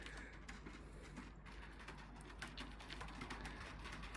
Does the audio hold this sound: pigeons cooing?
yes